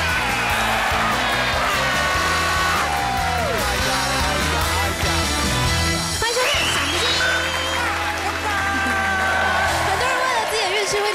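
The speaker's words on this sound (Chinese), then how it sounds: "惨叫声。" Screaming sound effect on a variety talk show, with loud, drawn-out wailing yells and rising and falling cries layered over a dense, tonal backing and mixed with voices.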